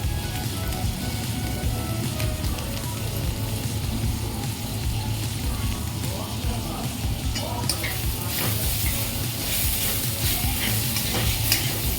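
Beetroot with peanuts and poppy seeds frying in a pan gives a steady, close, loud sizzle with stirring throughout, and no voices are heard.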